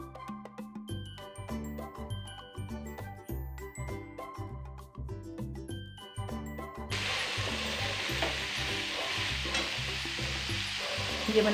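Cauliflower and potato curry cooking in a pan over browned onion, a steady sizzle with repeated stirring and light clinks of a utensil, building into a louder, denser frying hiss in the second half.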